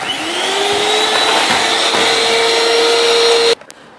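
Electric hand mixer beating mascarpone into egg yolks and sugar for a mango speculoos tiramisu, a loud steady whirring drone with a rising pitch that runs for over three seconds and then cuts off abruptly.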